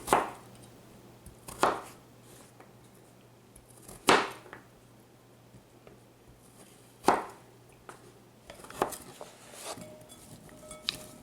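Vegetables being chopped into little cubes on a board, a few sharp isolated knife chops spaced several seconds apart, fairly quiet and close, with no talk.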